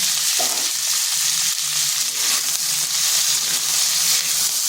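Cauliflower stems fry in a hot pan with salt while being stirred, a loud continuous sizzle with occasional scraping movements, close up and alone.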